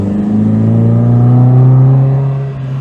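A modified MGB sports car engine revs as the car drives, a loud, close, rising then easing growl that holds steady for nearly three seconds before dropping off slightly.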